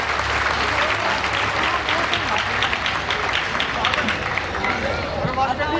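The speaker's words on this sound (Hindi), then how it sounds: "एक बार मन से तालियां बजाएं पंडित सुरेश नीरव जी के लिए" A large audience at the Lal Qila kavi sammelan of 2019 claps for the poet Pandit Suresh Nirav, a dense, steady roar of applause with crowd murmur running through it for the whole stretch.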